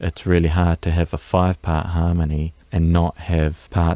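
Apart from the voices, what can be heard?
No distinct noise like a dog, phone or traffic.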